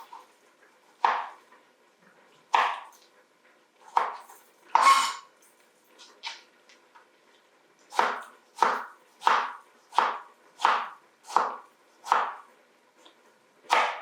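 Salad is chopped into small pieces on a cutting board with a knife, heard as crisp, close knocks, first spaced out, then a quick steady run of about ten even chops.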